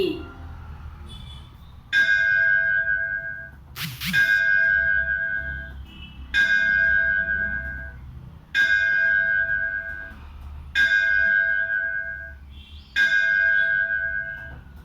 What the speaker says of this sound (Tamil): அருள்மிகு ஸ்ரீ மாரியம்மன் திருக்கோயில் மணியோசை